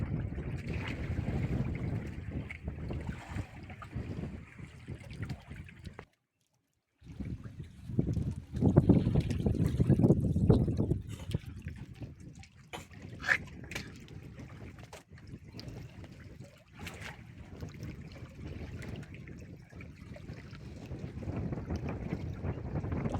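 Gusty wind buffets the microphone in rough, rumbling bursts that briefly drop out, then return strong and keep blowing.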